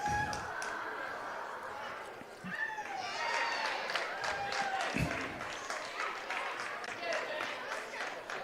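A crowd cheers and claps in a high school gym after a wrestling pin, with shouting from coaches and teammates over steady broadband noise, a few sharp thuds standing out.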